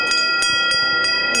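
A hospital cure bell, rung to mark the end of chemotherapy, strikes five times at a steady, even pace, each bright clang ringing over a continuous bed of sustained tone.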